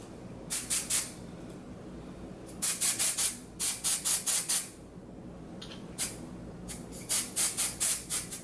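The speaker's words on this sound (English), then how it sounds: "this is a Salon Graphics High Beams Intense Temporary Spray On Color in the shade Violet" Salon Graphics High Beams temporary hair colour spray being applied: several quick bursts of hissing aerosol spray, grouped in short clusters with brief pauses between, close and fairly loud.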